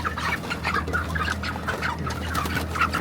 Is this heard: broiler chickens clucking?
yes